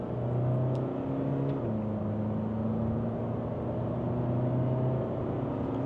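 A Honda Civic FC8 with a 1.6 i-DTEC diesel engine and ZF automatic gearbox accelerates at full throttle. The engine drone climbs, dips at a single gearshift, then climbs again, loud and continuous with no talking.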